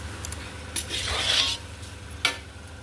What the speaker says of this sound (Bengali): এবার আমি এর মধ্যে দিয়ে দেবো একটু পোলাও মশলা। তো চলুন, দিয়ে এটাকে আমি ভালো করে নেড়ে নেব।